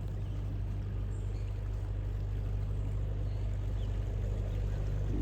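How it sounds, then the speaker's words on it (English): A boat engine drones steadily with a low hum while water washes along; constant, moderately distant, no talking. "Lovely boat coming by."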